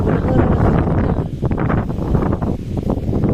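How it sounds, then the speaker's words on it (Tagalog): Strong wind roars and buffets the microphone continuously, a loud, rough rush that surges and dips without pause. "Kusog na po hangin."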